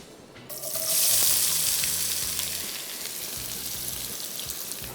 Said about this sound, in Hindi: तेल जैसी गर्म हो गया, सबसे पहले इसमें शामिल कर देंगे प्याज